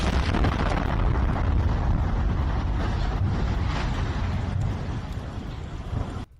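Aftermath of a drone attack explosion at a bus stop in Kyiv during the Russia-Ukraine war: a dense, loud, steady roar of broadband rumble with no distinct blast onset, cutting off abruptly at the end.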